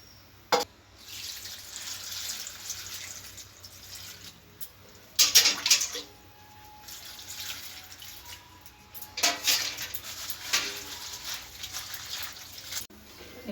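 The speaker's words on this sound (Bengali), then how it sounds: "এখন আমি এই কচুর পাতাগুলোকে ভালো করে ধুয়ে নেব" Taro leaves washed by hand in water, with close splashing and dripping in a few brief bursts separated by quieter stretches of trickling.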